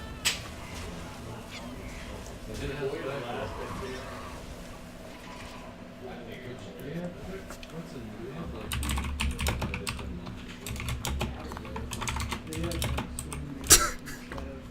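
Rapid clicking of a computer keyboard being typed on, fairly close, with bursts of keystrokes and short pauses; people talk quietly in the background and a brief louder thump lands near the end.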